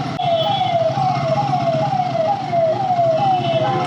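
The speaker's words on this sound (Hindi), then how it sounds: "पीछे की एम्बुलेंस है, एम्बुलेंस को जगह मिल जाए जल्दी" An ambulance siren behind a motorcycle, a loud fast yelp whose pitch sweeps down over and over in a quick steady rhythm, with road noise beneath.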